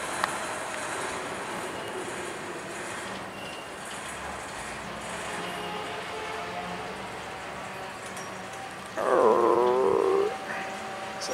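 An Amtrak train on the main line rolls past steadily with rumbling wheels and rail noise, then a brief burst of wheel squeal rises near the end.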